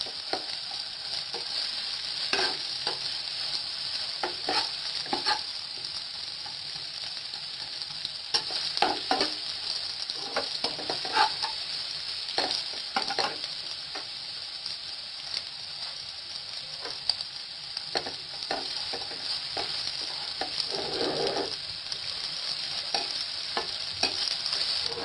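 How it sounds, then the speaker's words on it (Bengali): Onions browning in a small amount of oil in a pan, a continuous close sizzle with frequent scraping and clacking stirs spread irregularly throughout. "আর পেঁয়াজের কালারটা হালকা একটু ব্রাউন করবো।"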